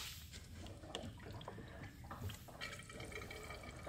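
AdBlue diesel exhaust fluid is poured into the filler of a VW or Audi, a quiet, fast gurgling trickle of liquid running steadily with small splashy glugs, close and faint.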